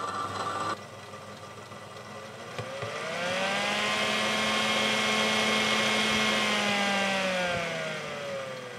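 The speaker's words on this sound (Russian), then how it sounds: "Вентилятор сильно тарахтючий." A loud, rattling electric fan spins up during a summer heat wave in Kyiv. A whirring drone rises to a steady roar and holds, with a rough mechanical rattle throughout.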